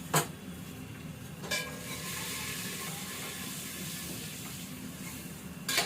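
Turmeric, coriander and chili frying in a pan, with a steady close sizzle running throughout and brief spoon-scraping stirs near the start, middle and end.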